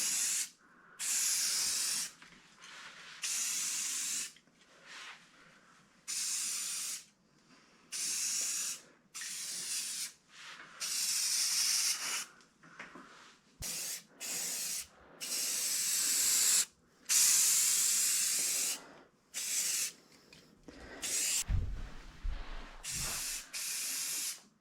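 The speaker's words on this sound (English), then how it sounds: "I found this spray paint at Walmart" Aerosol can of spray paint used on a Toyota Corolla All-Trac restoration, hissing in repeated bursts of a second or two separated by short pauses, close and steady, with no voices.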